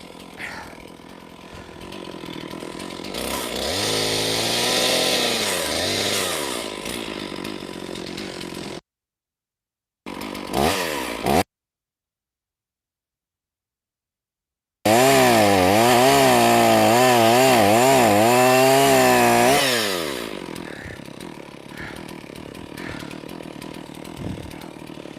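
Chainsaw bucking logs into firewood lengths in the woods, its engine revving and bogging loudly through long cuts, broken by a pause of near silence before a sustained full-throttle cut that then drops to idle.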